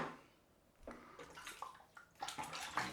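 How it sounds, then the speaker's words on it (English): Tap water runs and splashes while soap is rinsed off a shaving brush and hands at a sink, a steady close gush with shifting splashes and no talk. "Soap all over my hands, wash my hands."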